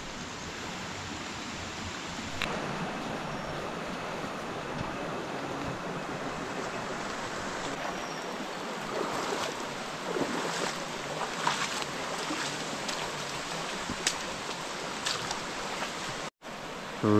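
A forest stream in Agumbe during the monsoon gives a steady broadband rush of flowing water, constant and fairly close, with a brief dropout near the end.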